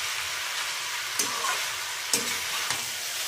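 Boiled noodles being tossed into a hot pan for chowmein, giving a steady sizzling hiss with a few quick scraping stirs, close and without speech.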